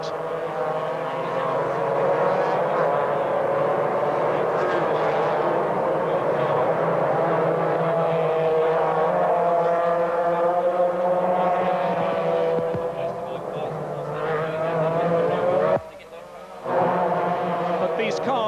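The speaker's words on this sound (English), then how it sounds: "already Tony Pond through Shell Turn to come through to complete his first lap" MG Metro 6R4 rally-derived race cars lap a temporary street circuit through city corners at the Birmingham Superprix, a steady loud engine roar sustained throughout with a commentator talking over it, briefly dipping near the end.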